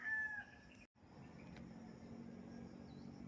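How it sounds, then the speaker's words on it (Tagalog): A rooster crows once at the start, fairly close and clear, then a brief gap gives way to a steady low rural background hum. "Tugaok sa manok mato mabati mga idol, di ba?"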